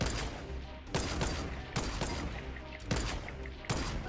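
Gunfire in the Fortnite video game, several loud, spaced bursts of shots cracking out irregularly at close range, with fainter shooting continuing between them.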